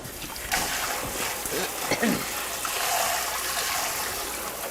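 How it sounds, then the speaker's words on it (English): Cold tap water splashes onto a thin stainless steel air fryer part as it is rinsed at a sink, a steady hissing stream with a few brief splatters, close and moderately quiet. "Just gonna rinse this under cold water."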